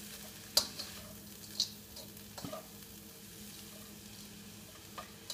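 Curried pineapple fried rice ingredients frying in a pan with a low steady sizzle, broken by a few sharp scrapes and clinks of stirring, fairly quiet and close, with no talk.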